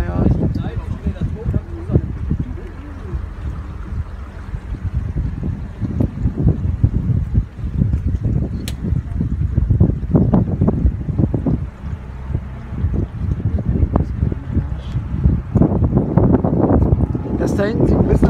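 Boat motoring through natural tidal channels near Greetsiel in the Krummhörn with a captain aboard, steady engine and water rumble with gusty wind buffeting the microphone, people talking over it throughout.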